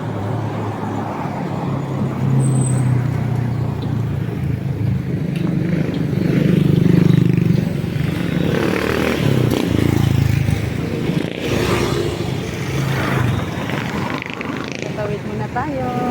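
A motor tricycle rumbling through street traffic, its engine a steady low drone with passing vehicles and scrapes around it, while people talk close by.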